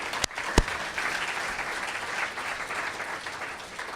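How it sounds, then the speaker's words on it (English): Two sharp, separate claps ring out before a Civic Saturday audience breaks into full, steady applause that carries on evenly, tapering a little toward the end. "So please, a round of applause for Eric Liu"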